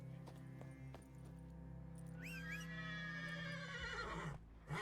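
Roach the horse in a video game whinnies with a rising, wavering neigh over steady hoofbeats, the clip-clop running underneath before the call.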